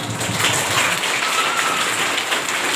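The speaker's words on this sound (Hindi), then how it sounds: "उन सबों की शुक्रगुजार के लिए जोरदार एक बार हाथ तालियां दिया" Loud, dense applause fills the hall at a rural educational awareness program, a steady hiss of many hands clapping together without letting up.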